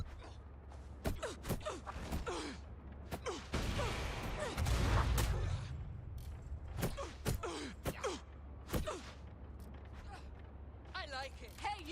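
Gunshots ring out in Watch Dogs: Legion on PS5: sharp, scattered cracks and bursts spread across the stretch, with a louder cluster near the middle, mixed with someone talking.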